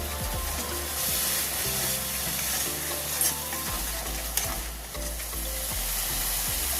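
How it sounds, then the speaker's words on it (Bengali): Ground mustard and spice paste fried in oil alongside shrimp and taro greens, stirred repeatedly: a continuous near sizzle broken by scraping spatula strokes against the pan, with no talking. "মশলার মধ্যে আবারও নাড়াচাড়া করে ভালো করে কষে নেবে"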